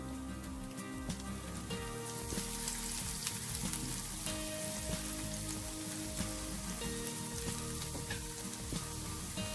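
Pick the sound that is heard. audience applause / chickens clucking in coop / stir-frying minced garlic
stir-frying minced garlic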